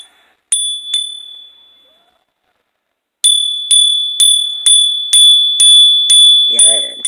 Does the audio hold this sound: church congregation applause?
no